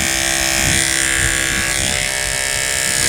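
Electric clippers buzz steadily and close up as they shave the long hair on a buck's tail, a continuous droning hum with slight changes in load throughout.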